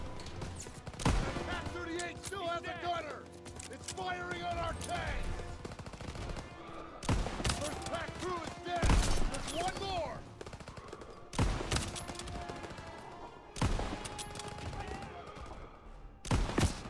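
Gunfire in the World War II shooter Call of Duty WW2: repeated loud bursts of rifle and automatic fire with sharp cracks and echoing tails, recurring through the stretch with some talking mixed in.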